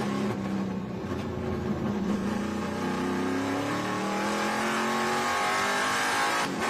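Heard from on board, Nathan Hearn's Cube 3 Ford Mustang race car roars at speed with a loud sustained engine note that climbs and shifts through the gears, and nobody speaks.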